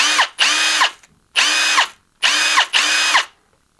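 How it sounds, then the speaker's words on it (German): Ryobi R18DD7 cordless drill whirring in four short bursts of about half a second to a second each, with brief gaps between them. The motor runs loud and close and spins up and down, with no voices. "Jeder mag ja ein anderes Geräusch bei seinem Akkuschrauber"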